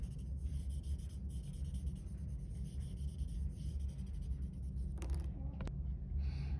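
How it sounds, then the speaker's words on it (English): A pencil shades on paper with soft, continuous scratching strokes, quiet and close, ending with a couple of sharper taps. "And then add another layer with your pencil."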